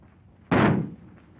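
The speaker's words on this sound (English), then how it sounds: "That shot got him." A single loud gunshot from a 1939 film soundtrack, one sharp broadband blast that rings out for about half a second over a quiet background.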